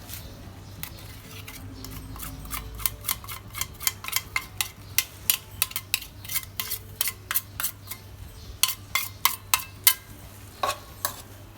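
Spatula scraping and clinking against a small frying pan as rice is tossed with shrimp paste, a steady run of sharp metallic ticks and scrapes close by over a low kitchen hum, with no talking.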